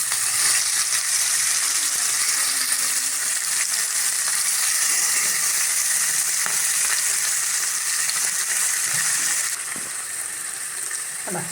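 Sardines coated in a salted spice paste frying in hot oil, a loud, steady, hissing sizzle close up that continues without break and eases slightly near the end.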